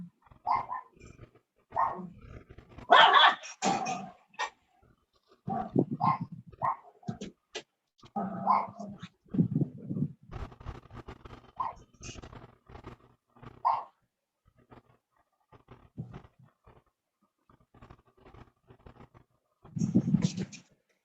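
Dogs bark repeatedly in irregular bursts, some yelps and growly barks, fairly close, with a person's voice mixed in among them.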